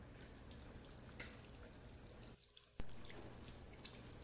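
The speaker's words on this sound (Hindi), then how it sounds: "तो अभी दोस्तों फर्स्ट क्लास गर्म पानी आ रहा है अभी हमारे पास" Hot water runs steadily from a tap just after an Ariston water heater was installed, a close, even hiss of flowing water with a brief dip and a small splash partway through.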